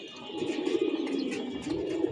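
Young pigeons cooing on a rooftop in hot weather, a steady, low, throaty purr running the whole time with faint chirps and soft rustling above it, close and moderately loud.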